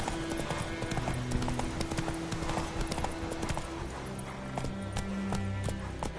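A horse gallops in The Witcher 3: Wild Hunt, its hooves a steady, dense clip-clop that runs throughout over continuous game background sound.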